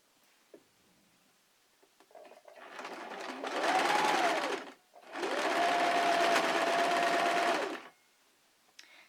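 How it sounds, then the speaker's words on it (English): A sewing machine worked by a foot pedal runs in two bursts of rapid whirring needle stitching, close and clear, separated by a brief pause, with quiet handling clicks before and after. "I'm just pressing on the foot pedal to make the needle go and the machine go"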